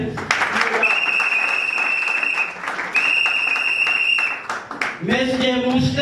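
Audience applause at a political gathering announcing party officials, steady crowd clapping filling most of the stretch with a sustained whistle-like tone over it, then a voice breaks in near the end.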